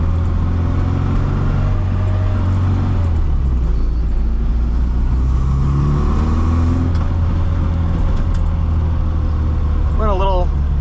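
A 1965 Austin Mini Cooper S engine drones steadily while driving on a small road, a loud continuous low hum with rising revs, a voice talking over it throughout.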